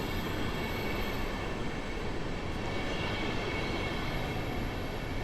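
A train passes through Warszawa Zachodnia station during construction works, a loud, steady broadband rumble of wheels and cars close by, with no talking.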